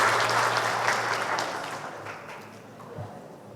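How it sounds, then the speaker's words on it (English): Audience applause at an awarding day ceremony, a steady crowd clapping that gradually fades, with a faint low hum underneath. "Give applause"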